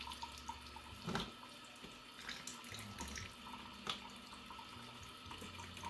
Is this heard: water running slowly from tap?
yes